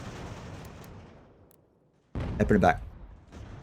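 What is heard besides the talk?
cannon fire in video game Ultimate General American Revolution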